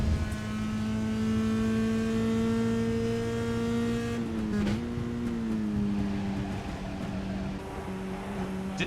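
A Mazda MX-5 race car engine in the iRacing sim at Sebring holds a steady, loud, tonal drone, then shifts down in pitch midway and carries on at a slightly lower note.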